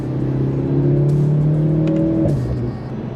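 Mercedes-AMG C43 engine pulling hard from inside the car, a loud steady drone that rises in pitch, then drops sharply around two and a half seconds as the dual-clutch gearbox shifts, with brief crackles from the exhaust.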